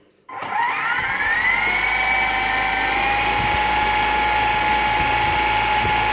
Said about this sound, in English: I take it that rear tail rotor spins round a lot faster